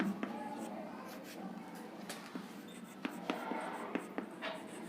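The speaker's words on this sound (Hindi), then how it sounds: "यहाँ पर लिखेंगे इलेक्ट्रॉन" Marker or chalk strokes on a classroom board during a Class 12 chemistry lesson on p-block elements, with quick scratchy taps and short scribbles repeating steadily, close and fairly quiet over faint room noise.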